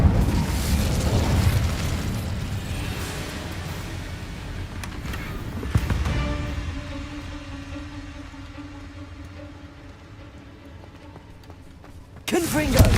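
An Incendio fire spell in Hogwarts Legacy erupts with a loud whooshing burst and rumbling roar, fading into a long decaying crackle with a ringing tone, then another blast near the end.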